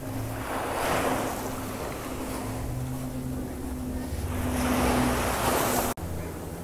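Sea waves wash onto the shore at English Bay, Vancouver, in winter: a steady, fairly loud surf roar with swells rising and easing, wind buffeting the microphone, and a low engine hum running underneath.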